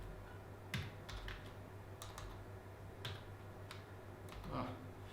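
Keys tapped on a computer keyboard in a quiet room, a few faint scattered clicks spread across several seconds with no steady rhythm.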